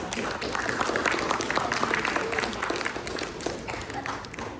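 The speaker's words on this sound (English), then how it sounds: "Let's give them another round of applause." An audience at a teen comedy show claps in a sustained, dense round of applause that stays fairly even for a few seconds, with a hint of crowd noise underneath.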